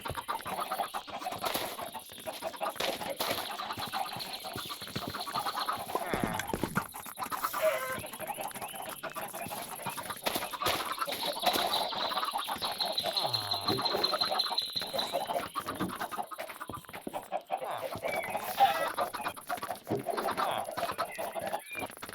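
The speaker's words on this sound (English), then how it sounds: "we'll wait for the chickens to come through into this barrel" Minecraft chickens cluck repeatedly in a lossless chicken farm (Java edition), giving a steady, busy stream of fowl calls with faint speech mixed in at times.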